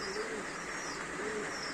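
An Iraqi pigeon (Irak kuşu) coos nearby in soft, rolling low notes, two cooing phrases over a steady background hiss.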